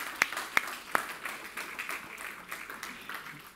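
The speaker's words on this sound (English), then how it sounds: "Why don't we give Marconi a round of applause?" Conference audience at a radio industry event in Milan claps for Marconi, a few sharp individual claps at first, then faint, scattered applause.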